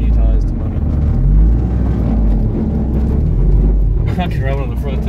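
A car stuck in a driveway with its tyres rubbing gives a loud, steady low engine rumble throughout, and a voice cuts in briefly near the end.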